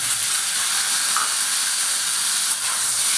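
Taro pieces sizzle in hot oil after five-spice tempering, giving a steady, loud hiss of frying that continues without pause, close up and with no one speaking.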